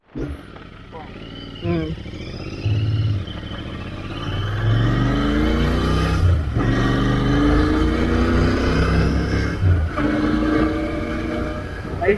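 Royal Enfield Interceptor 650, a 650 cc motorcycle, heard while riding in third gear at nearly 60 km/h, its engine droning and rising through revs under steady wind rush, with someone talking over it.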